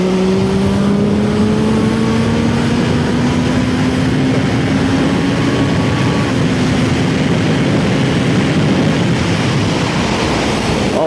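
A Zontes 703RR motorcycle accelerates at speed on twisty roads, its engine note rising steadily under heavy, constant wind roar.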